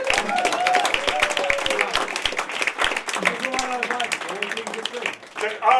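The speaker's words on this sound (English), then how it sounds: "So please round of applause for everyone who didn't go through tonight." A comedy audience at a Sussex stand-up night claps steadily and fairly close, a rattle of hands with some chatter mixed in, thinning out toward the end.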